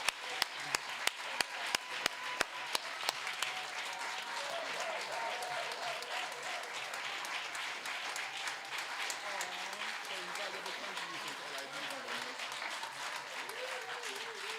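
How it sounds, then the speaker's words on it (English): Steady audience applause at a debating competition award presentation in the Leeward Islands, a few sharp near claps at the start swelling into sustained crowd clapping with faint voices underneath. "Keep clapping."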